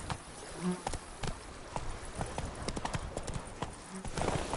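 Roach, a horse in The Witcher 3: Wild Hunt (Blood and Wine expansion), gallops with steady, close clip-clopping hoofbeats. Faint insect-like buzzing sits in the background.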